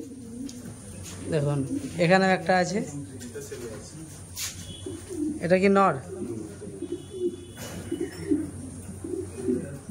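Fancy pigeons, including black ones, coo in a few repeated throaty bursts close by, with people talking around them.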